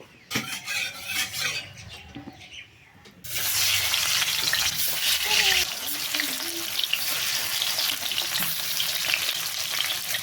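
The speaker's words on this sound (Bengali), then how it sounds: "মাছটা ভাজা হয়ে গিয়েছে এই যে কড়াইতে যে মাছের তেল রয়েছে" Fish fries in oil in a wok: after a quieter opening with faint kitchen clatter, a loud, dense, continuous sizzle takes over and holds steady to the end.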